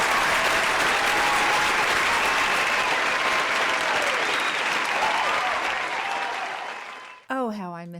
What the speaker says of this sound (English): Oh, how I miss that applause.